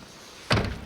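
A car door swinging shut after its striker has been greased, one solid thunk midway through an otherwise quiet moment, fairly close.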